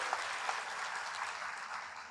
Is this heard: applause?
yes